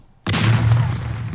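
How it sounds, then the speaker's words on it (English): A single sustained burst of gunfire sound effect starting abruptly and holding loud and dense, heavy low rumble underneath. "Gunfire!"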